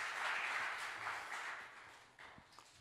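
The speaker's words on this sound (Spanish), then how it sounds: "Fuerte, fuerte ese aplauso a Dios" A church congregation applauds during a sermon, a soft, distant wash of sustained clapping that slowly fades toward the end.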